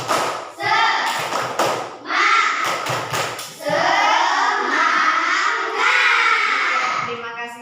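Schoolchildren in a class performing a rhythmic spirit clap, bursts of sharp hand claps and thumps in a patterned beat alternating with the group chanting together, close and loud.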